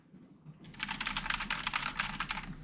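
Fast, steady typing on a computer keyboard, a dense run of close clicks and clacks that starts after a brief quiet moment and continues without pause.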